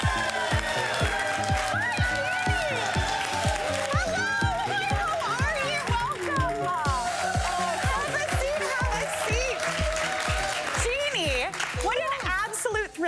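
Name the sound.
studio audience applauding and cheering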